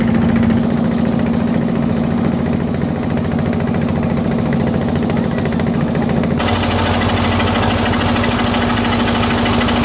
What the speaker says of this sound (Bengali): আমাদের ট্রলার এখন যাচ্ছে পদ্মা ব্রিজের দিকে